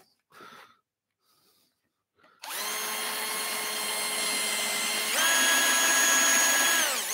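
A power drill whines loudly into wood while turning a hand mirror, after a few soft knocks, its motor pitch holding steady then rising midway as it bites in.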